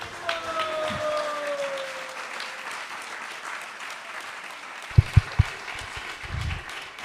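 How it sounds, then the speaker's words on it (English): Audience applause for a speaker at a Sunday feast gathering, steady clapping throughout with a few sharper nearby claps near the end. "A round of applause for His Grace."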